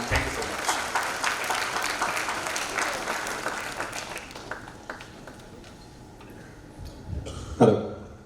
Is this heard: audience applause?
yes